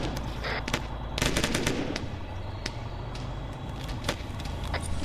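Machine-gun fire crackles through a shootout: scattered, irregular bursts of sharp shots, some near and loud and others more distant, over a low engine rumble from vehicles.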